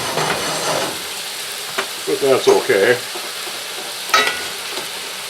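Korean-style BBQ sauce sizzles steadily in a cast iron wok on a wood cookstove, a loud close frying hiss with a few bubbling pops, while someone speaks briefly over it.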